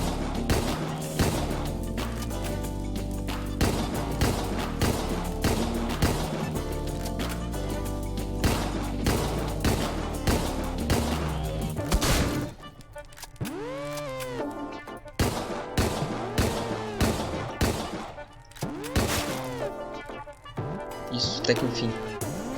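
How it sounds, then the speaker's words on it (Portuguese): Gunfire rings out in the video game Deadbolt, dense rapid shots packed together at first, then thinning to scattered single shots, while a player talks over the action. "Fica atirando aí de longe não, mano."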